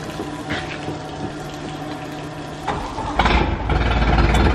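A water pump running with a hose attached gives a steady mechanical whir and hum with rushing water. The sound swells louder near the end, with no talking.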